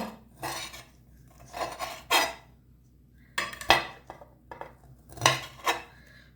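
A knife chops and scrapes beef cubes on a cutting board in repeated bursts, with clinks of utensils, close up and no talking.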